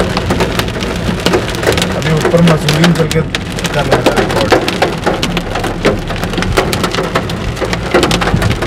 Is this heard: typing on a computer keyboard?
no